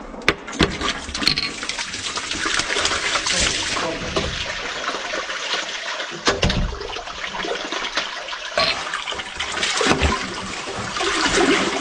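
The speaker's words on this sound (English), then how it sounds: "Cause I'm gonna flush it from upstairs." A toilet flushed upstairs sends water gushing and trickling through a drain pipe during drain cleaning, a continuous splashing flow with sharp knocks and surges.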